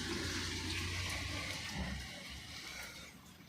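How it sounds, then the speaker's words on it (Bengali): Water poured over marinated chicken in a pot for biryani, a steady soft rushing pour that eases off slightly toward the end, alone with no talk. "ওইটা একটু জল দিয়ে এটার সাথে মিক্স করে এটার উপর দিয়ে দেবো।"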